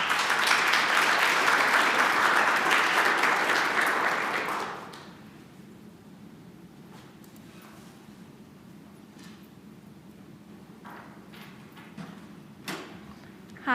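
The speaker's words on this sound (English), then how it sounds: "Let's give her a round of applause." Audience applause at an honors conference, loud dense clapping for about four seconds that fades quickly into a quiet room with faint shuffles and clicks.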